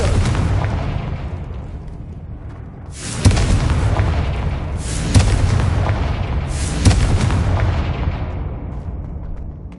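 Confringo spell explosions in a Harry Potter video game: three heavy booming blasts land a couple of seconds apart, each bursting loud and then decaying over a constant rumbling background.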